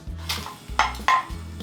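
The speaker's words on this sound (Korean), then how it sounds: "자, 그릇에 덜어놓고요." Cookware clatter as half-cooked scrambled eggs for pork belly fried rice are transferred from the pan into a bowl: three distinct clinks and scrapes of utensil against dish, close up, with no talking.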